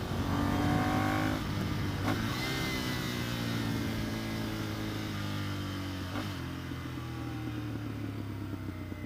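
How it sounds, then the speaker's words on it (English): Ducati Monster 659 motorcycle engine on overrun, a steady droning note that drops in pitch with a couple of brief blips, heard close over constant wind and road rush. "Oh, how good's that overrun?"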